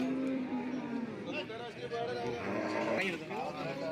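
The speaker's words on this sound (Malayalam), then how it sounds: "ഇവിടെ ഇപ്പോഴും എരുമയും പോത്തുകളൊക്കെ നിൽപ്പുണ്ട്" Water buffaloes and bulls low at a busy cattle market, a drawn-out moo rising over the crowd's chatter and general commotion, with further calls nearby.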